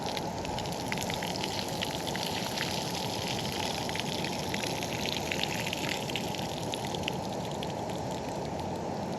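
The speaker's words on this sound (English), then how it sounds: "so we're going to drain the water off them" Water drains off defrosted prawns in a steady, close splashing trickle, continuous and even throughout.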